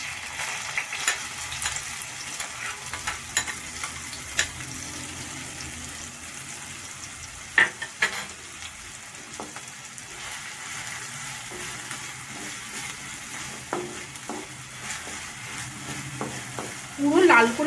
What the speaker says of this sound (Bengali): তেল গরম হয়ে গেছে, এর মধ্যে আমি দিয়ে দেব কুচনো পেঁয়াজ